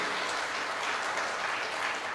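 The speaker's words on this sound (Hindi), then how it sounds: "give yourself a big big round of applause, एक जोरदार तालियां आप सभी के लिए" An audience at a company seminar applauds loudly in a continuous, dense wash of clapping that lasts throughout, with no voices over it.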